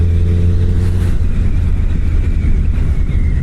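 A Suzuki Hayabusa cruises smoothly along an early-morning highway between Delhi and Dehradun, giving a loud continuous engine drone with heavy rushing wind buffeting the microphone throughout.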